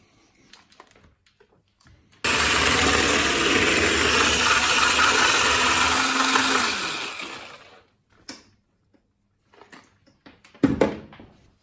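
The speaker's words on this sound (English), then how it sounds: "200 grams of butter, and I'm going to whisk that" An electric whisk beats 200 grams of butter for a red velvet cake, a loud steady whirring drone that runs for about five seconds before winding down, followed by a few faint knocks and clatters.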